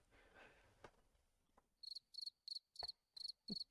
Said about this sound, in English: followed by crickets chirping.